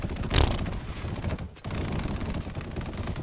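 Rapid aircraft cannon strafing fire in a video game, a dense continuous rattling burst with a sharp opening blast, a short pause, then more sustained fire, loud and close.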